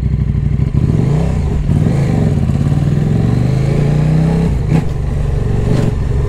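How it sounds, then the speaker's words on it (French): KTM 1190 RC8 R superbike accelerating hard, its engine note rising and falling in loud, close bursts with a brief throttle blip near the end, no talking. "à la moindre torsion du poignet, ça accélère d'un coup"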